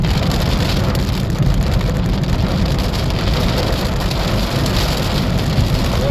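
Heavy rain pouring steadily, heard from inside a car, a dense constant hiss and patter with a low rumble beneath, loud and unbroken.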